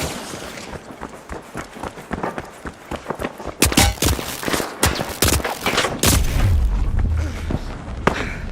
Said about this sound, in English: Throwing goo grenades.